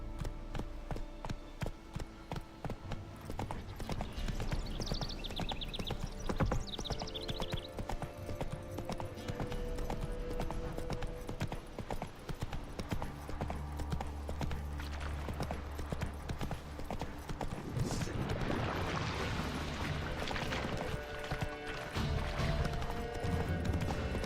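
Roach the horse gallops in The Witcher 3 on PS5, hooves pounding in a rapid, continuous clip-clop rhythm under loud game sound and music, with a brief snort or whinny partway through.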